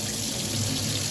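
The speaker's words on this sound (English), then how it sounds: "First thing you want to do is throw in your rice, and the very next step is to rinse it." Tap water runs steadily into a sink while rice is rinsed to wash out the starch, a continuous close splashing rush with no talk.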